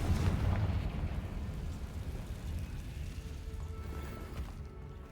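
A Confringo fire spell bursts in a ruined underground chamber in Hogwarts Legacy, a loud blast at the start that trails off into rumbling and crackling debris fading to quiet.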